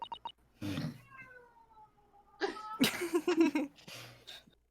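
Several soft, drawn-out cat meows from the video game The Great Ace Attorney: Adventures, with gaps between them, fairly quiet and slightly distant, with brief breathy noises in between.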